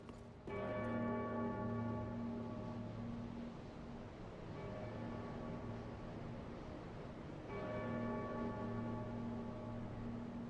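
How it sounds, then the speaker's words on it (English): A large bell tolls three times in Dark Souls 3, each strike ringing out with rich, sustained harmonic overtones that carry into the next, loud and resonant with no talking. "someone just rang the bell"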